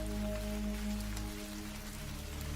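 Steady rain falling through a night storm in a rural drama scene, a continuous close wash of drops on surfaces with a low tonal hum beneath, no voices.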